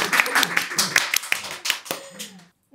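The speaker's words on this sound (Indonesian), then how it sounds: "Tepuk tangan dulu." Scattered hand claps from a small group, a few sharp close claps over a couple of seconds amid light talk, fading out at the end.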